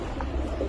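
Soft, low cooing of pigeons brought from Abu Dhabi, a brief murmur from nearby birds with no talking over it.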